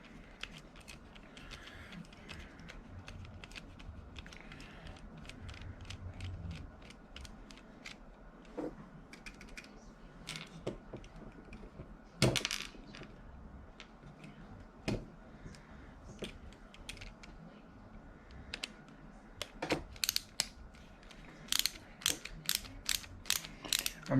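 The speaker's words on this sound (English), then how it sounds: "Get all these screws out here." Small screws being backed out of a Losi Mini-T 2.0 RC truck motor mount, a series of faint ratcheting clicks and soft metallic ticks that come in irregular bursts and grow sharper toward the end.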